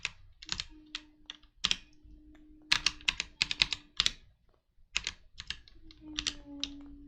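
Someone types on a computer keyboard while coding a website, fast bursts of crisp, close key clicks broken by short pauses, over a low steady hum.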